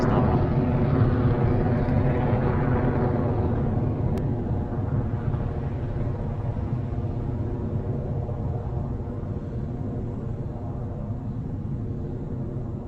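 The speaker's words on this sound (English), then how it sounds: "a beautiful liftoff of Electron from the pad at Launch Complex 1" A simulated Electron rocket lifting off from Launch Complex 1 in Kerbal Space Program: a loud, steady, low roar that slowly eases back as the rocket climbs, with no voices over it.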